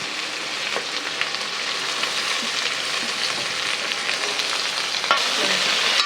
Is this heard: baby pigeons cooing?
no